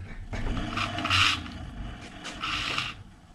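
The rear wheel of an Alpina 503 Dutch-style city bicycle rubs as it turns during adjustment of the hub bearing play, giving repeated scraping swishes in uneven bursts, close by with no talk.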